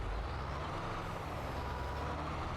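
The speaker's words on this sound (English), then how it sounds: "There's the engine sound." Engine of a farm vehicle in the video game Farming Simulator 22 running steadily, a low continuous rumble at a constant level with no talk over it.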